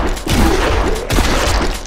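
Rapid automatic gunfire from a gun in a zombie video game, played in a city centre, comes in two loud dense bursts of shots close by.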